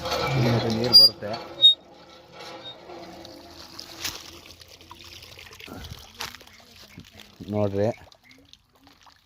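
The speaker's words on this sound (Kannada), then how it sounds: "ನೀರು ಒತ್ತುತ್ತೀನಿ, ಒತ್ತಿದ ತಕ್ಷಣ ನೀರು ಬರ್ತವೆ." Water pours from an old hand-pump borewell in a low, steady splash that runs between bursts of nearby talk.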